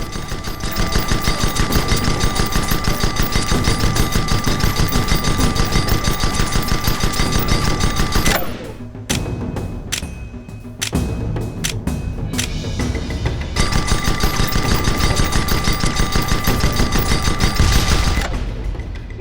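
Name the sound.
gunfire from ship guns in video game Guns of Icarus Online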